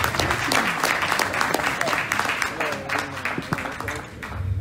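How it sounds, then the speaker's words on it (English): An audience at a New York City political fundraiser breaks into applause, a broad wash of clapping with scattered cheers and voices mixed in, fairly loud and sustained throughout. "Let's give him a round of applause."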